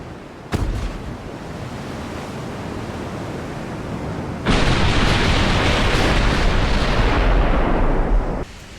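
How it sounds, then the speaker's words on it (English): Broadband roar of 14-inch battleship guns firing a salvo with explosions in a 1920 naval battle game; a sustained loud rumble starts abruptly, then jumps even louder midway before cutting off. "I think that salvo is going to finish her off."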